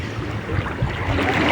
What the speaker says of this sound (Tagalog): Medyo nalaki na po yung alon